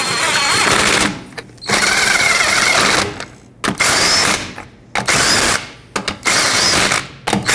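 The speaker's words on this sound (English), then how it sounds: "Put on all five of your lug nuts, bottom them out, and torque them to 76 foot-pounds." A power tool running lug nuts down on a wheel of a 2003-2008 Toyota Corolla, loud rattling impact bursts in several runs with brief pauses, close to the listener and with no talking.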